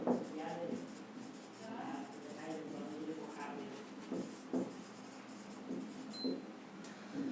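A pen scratches across paper in short, faint strokes while a man lectures in Hindi over it.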